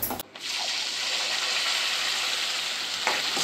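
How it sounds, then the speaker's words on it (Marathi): Ground masala paste sizzles and fries steadily in hot oil, a loud, continuous crackle with a brief stir or scrape near the start and again near the end, with no talking. "आता मी जे वाटण बनवलं होतं ते याच्यामध्ये मी ऍड करते"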